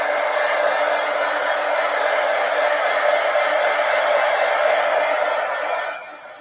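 A hair dryer blows steadily over a watercolor painting, a loud, even whooshing whine that runs for about six seconds before winding down as it is switched off.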